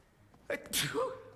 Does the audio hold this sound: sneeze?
yes